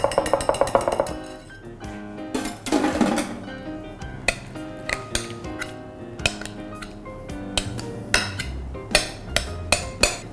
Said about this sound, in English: I'm giving everything another good mix.